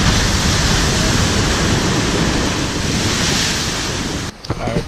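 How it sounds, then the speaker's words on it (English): Loud ocean surf crashing continuously on a beach at Soufriere, St. Lucia, a steady roaring wash of breaking waves with wind noise, cutting off abruptly near the end. "the waves are just crashing"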